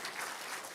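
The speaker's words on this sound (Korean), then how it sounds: "진짜 박수 한번 보내주십시오." Audience applause at a live Busan talk show event: a brief, steady wash of many hands clapping together at an even level throughout.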